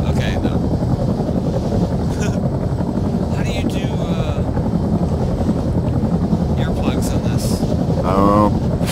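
Helicopter in the ArmA III video game, a steady loud broadband rotor and engine roar filling the whole stretch without a break.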